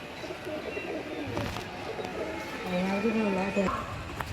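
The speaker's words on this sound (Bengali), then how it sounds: "এই যে পায়রাটা নামলো" A racing pigeon, just landed after a long flight, coos in a low, wavering call near the end, while someone talks over it and other birds murmur in the background.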